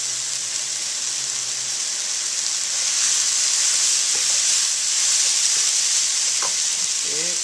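Baby bok choy sizzles in a hot pan with soy sauce in a steady, bright hiss, with faint stirring clatter and a brief soft voice near the end.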